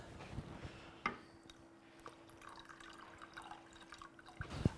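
Soy sauce poured over cooked rice, a faint trickle and a few soft drips and squishes close by, with a light knock at the start and a clatter at the end.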